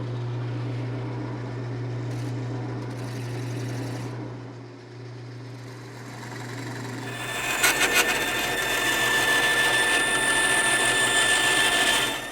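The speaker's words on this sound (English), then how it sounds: "I'll do that at the lathe." A piece of poplar spins on a wood lathe to become a rosette; a low motor hum runs at first, then a turning tool cuts in with a loud, steady, rough shaving whir close by.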